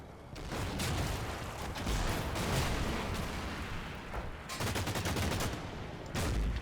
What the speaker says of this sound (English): And that's another burst of MG fire that went nowhere near.